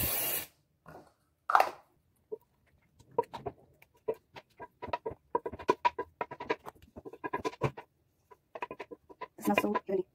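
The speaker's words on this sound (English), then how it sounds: "Just gonna spray this with non-stick spray." Non-stick cooking spray hisses onto an oven-proof dish for cheesy scalloped potatoes, in a short burst at the start and another near the end, with a voice and light clattering in between.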